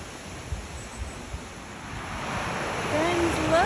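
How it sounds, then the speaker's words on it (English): Wind rushes over a steady wash of breaking surf in Door County, the roar gradually swelling louder toward the end, with gusts buffeting the microphone. "you can hear the wind and you can hear the waves"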